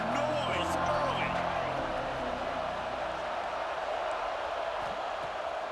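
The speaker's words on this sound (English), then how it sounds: "This crowd bringing the energy and noise early." Stadium crowd noise fills a college football video game showing Missouri at Alabama, a dense, steady roar that holds throughout, with a commentator's voice briefly on top near the start.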